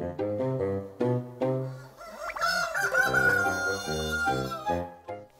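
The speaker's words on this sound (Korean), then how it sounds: "닭이네요, 닭." Chickens on an egg farm clucking nearby in short, choppy calls, with a rooster's drawn-out crow rising in the middle before the clucking resumes.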